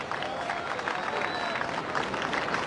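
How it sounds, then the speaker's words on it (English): Crowd applauding outdoors at a surfing contest award ceremony at Sunset Beach, a faint, distant wash of clapping and cheering that stays level throughout. "how about a round of applause for all the great surfers performing out here at Sunset Beach"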